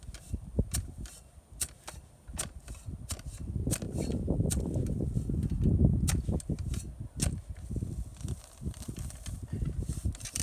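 Tool cutting through grass while building a farm fence, a repeated crackling, ripping tear with sharp snaps, swelling louder in the middle and fading in and out close by.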